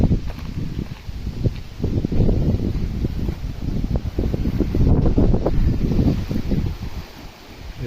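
Wind blowing through a Konkan village, a steady broadband rush with gusting swells and rustling, fairly loud and continuous with no talk.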